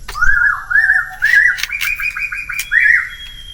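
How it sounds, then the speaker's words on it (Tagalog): On a farm, a bird calls loudly and close by with a series of bright, warbling whistled notes, several phrases in quick succession with brief gaps between them. "Ingay ng ibon ah."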